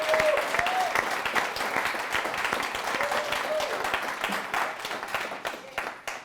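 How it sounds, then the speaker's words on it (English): Audience applause fills a hall at a talk on Black women, Black men and Black power, dense steady clapping throughout with whoops and cheers rising above it. "can y'all please give a round of applause for Vicky and Misha?"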